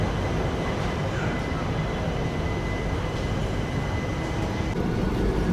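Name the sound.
Vasco-Da-Gama–Tirupati express train departing Bellary Junction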